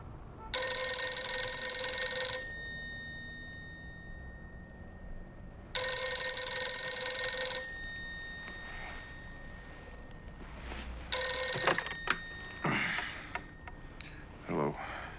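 An old telephone bell rings three times in long metallic bursts with gaps between them, followed by faint clicks and handling sounds as it is picked up.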